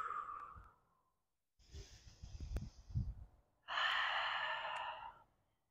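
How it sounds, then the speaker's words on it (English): Audible breathing during aqua yoga cat-cow stretches: slow, deliberate inhales and long exhales, close and fairly quiet, separated by short pauses, with no talking. "Making the breaths audible."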